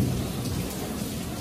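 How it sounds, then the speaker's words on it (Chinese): Steady heavy rain pours alongside a low rumble of thunder during a storm in Penang, a dense continuous wash of sound with no voices. "雨声雷声"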